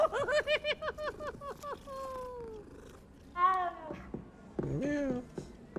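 A cat in the video game Hogwarts Legacy meows repeatedly, a quick run of short mews followed by longer drawn-out calls, close and clear, with a voice talking briefly in the middle.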